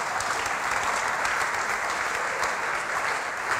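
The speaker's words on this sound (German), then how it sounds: "Einen kräftigen Applaus für die Jungs." A church congregation applauds after a prayer, giving a steady, even roar of many clapping hands at moderate loudness with no voices standing out.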